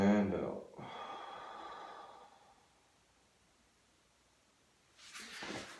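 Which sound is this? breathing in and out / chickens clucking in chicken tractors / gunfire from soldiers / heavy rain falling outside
breathing in and out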